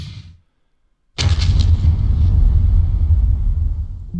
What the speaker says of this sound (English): Mind you, these are heavy mortars, 120 millimeters.